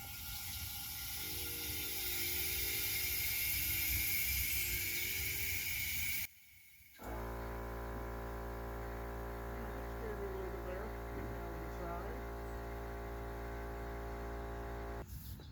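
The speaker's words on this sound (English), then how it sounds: "So now the compressor shut off." An air compressor drones steadily while inflating air bags under a Cadillac. It cuts out briefly, then resumes with a lower, more tonal electric hum, close and without talking.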